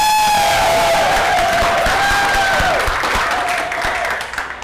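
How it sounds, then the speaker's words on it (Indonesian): Loud, enthusiastic crowd applause at a live comedy event in Medan, with cheering and a rising whistle-like whoop over the clapping, fading slightly at the end. "langsung aja kita panggilkan tepuk tangan meriah untuk Riste."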